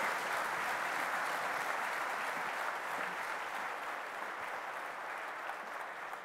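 Sustained audience applause welcoming a speaker, steady dense clapping from a large crowd indoors, fairly even in loudness throughout and easing slightly toward the end.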